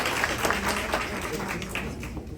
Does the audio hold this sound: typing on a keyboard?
no